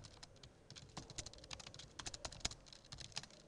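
Rapid, continuous typing on a computer keyboard while writing a program in a terminal, a dense patter of close, crisp key clicks with no voices.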